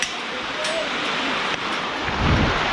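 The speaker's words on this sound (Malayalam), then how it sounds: "അയ്യോ, മഴ ചതിച്ചു. നല്ല അടിപൊളി മഴ." Heavy rain pours down outdoors in a backyard aviary, a dense, loud, steady hiss that swells slightly toward the end.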